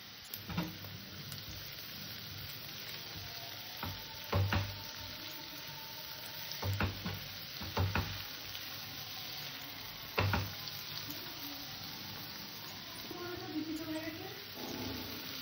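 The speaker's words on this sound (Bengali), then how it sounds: "আমার সবজিটা ভাজা হয়ে গেছে।" Vegetables frying in a pan give a continuous close sizzle, broken by several louder bursts of scraping and stirring.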